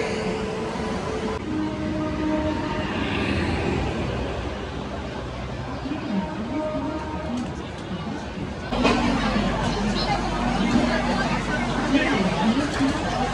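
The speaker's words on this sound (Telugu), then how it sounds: "ఆఫ్టర్ 8 hours స్ట్రగుల్ మన ట్రైన్ అయితే వచ్చేసింది" A passenger train pulls into a busy Indian station platform, its low rumble swelling midway beneath constant crowd chatter and nearby voices.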